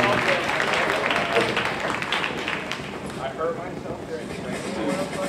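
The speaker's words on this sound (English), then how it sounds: "please help me to give another one more round of applause to Mr. Richo." Audience at the grand final of an international pageant gives a dense, continuous round of applause that fills the hall, with crowd noise and voices mixed in as it gradually thins.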